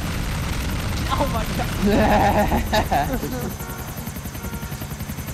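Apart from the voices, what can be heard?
helicopter in video game GTA Ballad of Gay Tony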